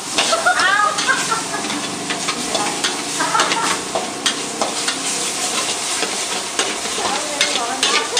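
Pad thai stir-fried in a pan, loud continuous sizzling and steam hiss with repeated spatula scrapes and tosses, close up throughout.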